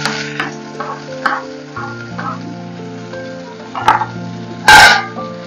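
Garlic and curry leaves fry in oil for a spicy masoor dish, with a soft sizzle, a few close stirring scrapes and a sharp clatter near the end, over a steady background hum.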